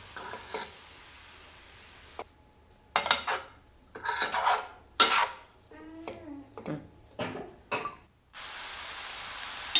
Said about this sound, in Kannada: ಸೊಪ್ಪು ಕಾಳು ಎರಡೂ ಚೆನ್ನಾಗಿ ಮಿಕ್ಸ್ ಮಾಡಬೇಕು